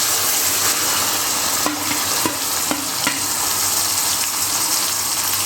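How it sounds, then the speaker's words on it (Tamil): Tomatoes frying in a pan for tomato rice, a dense, loud, close sizzle with a handful of light stirring taps over it and no voices. "இப்போ தக்காளியை போட்டுடுங்க."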